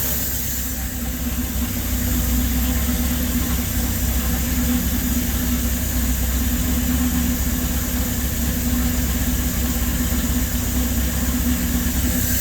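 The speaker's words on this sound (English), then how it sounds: "I'll try to let you listen to the exhaust" A LaSalle car engine idles with a steady low exhaust drone, its fuel-starved running heard as a continuous rumble close by with no voices.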